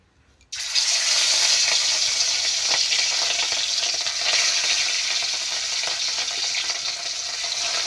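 Bhakur fish frying in hot oil in a home kitchen, a loud, dense sizzle that bursts in suddenly after a quiet start and hisses on steadily to the end.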